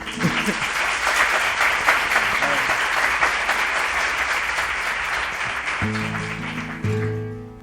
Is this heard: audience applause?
yes